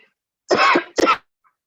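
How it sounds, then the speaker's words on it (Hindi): Someone in a classroom gives a quick double cough, two close, loud bursts in an otherwise quiet room. "किसको खांसी आ रही है भाई?"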